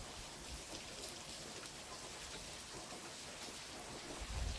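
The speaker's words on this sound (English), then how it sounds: "Wow, it's pretty heavy too. I didn't expect it to rain this heavy and this much." Heavy rain pours down in a dense, steady hiss across a broad spread of sound, with a low rumble of thunder building toward the end; no one speaks.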